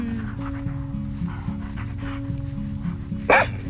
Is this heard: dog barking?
yes